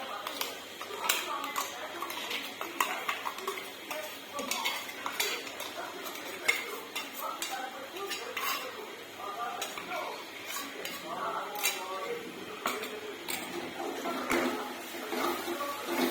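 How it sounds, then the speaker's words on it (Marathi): A metal spoon clinks and scrapes against a pan as ginger-garlic paste goes into hot oil and gets stirred, in a busy, irregular clatter throughout, with a voice talking at times. "आता याच्यामध्ये जी आपण अद्रक लसणाची पेस्ट करून ठेवली होती ते घालून घेऊया"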